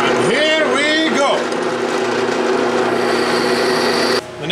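A drill press boring a hole through wood over a sacrificial backing piece, a loud steady whine with rising and falling pitch as the bit bites in, cutting off abruptly at the end.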